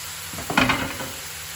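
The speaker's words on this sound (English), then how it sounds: "Now nicely add the spices, and we're gonna start mixing everything." Salt and pepper chips being stir-fried in a pan for a homemade Chinese takeaway dish, a brief burst of sizzling and scraping stir peaking mid-clip, then settling back to a quiet hiss.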